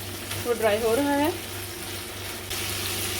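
Yogurt-marinated chicken for shawarma browns in a pan with a steady, soft sizzling hiss, while a person talks briefly over it.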